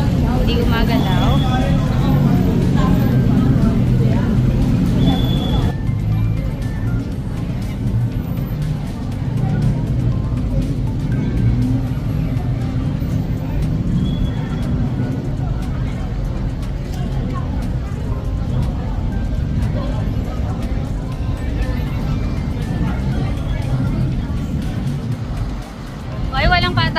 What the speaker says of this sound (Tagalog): Malala ang traffic dito